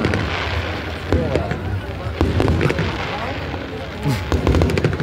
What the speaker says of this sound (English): apparently the fireworks are now starting in Ballycastle of the Halloween 2024 event.